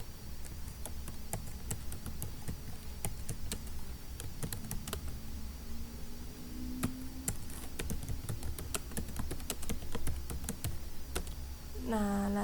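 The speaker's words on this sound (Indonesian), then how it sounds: "di sini kita ketikkan sesuai dengan apa yang ingin kita sampaikan" Steady clicking of keys on a computer keyboard while someone types out a book foreword, irregular taps running throughout over a constant low room hum, no talking.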